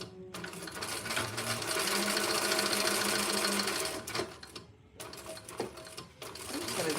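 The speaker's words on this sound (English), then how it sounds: "let's just sew this on." Home sewing machine stitching fabric during a live sewing session, a steady fast whir running for several seconds, pausing briefly and then restarting, heard close up with low background sound.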